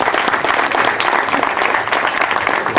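Audience at a secondary school event in Mexico breaking into strong applause, dense steady clapping from a room full of people throughout.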